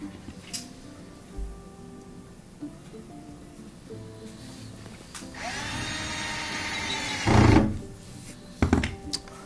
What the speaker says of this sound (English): I'm going to put in those 2 Torx 15 screws at the bottom of the front panel.